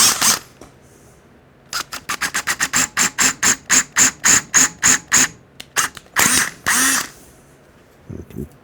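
A 1/4 inch bit drilling a hole for a tracker handlebar install on a Triumph Speedmaster, heard as a quick run of close, loud bursts that settle into a steady pulsing rhythm, then two longer whirs and a pause.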